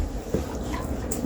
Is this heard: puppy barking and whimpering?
yes